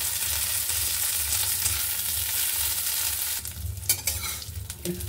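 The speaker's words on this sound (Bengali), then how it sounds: "আর কাজুটা একটু ভেজে নেব" Cashews sizzle in hot ghee in a pan on a low gas flame with a dense, steady crackle that fades out. Clinks of stirring and a few sharper taps come at the end.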